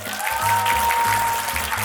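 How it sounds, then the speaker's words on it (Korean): An audience claps at a lavish first-birthday party in a hotel hall, a short, even patter of applause over low, steady musical tones. "박수로 네, 환영해 주시면 감사하겠습니다"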